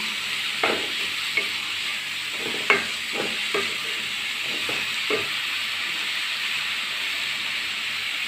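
A spoon stirs chicken sandwich filling in a hot pan, a steady hiss of gentle frying broken by several soft scrapes and taps at irregular intervals.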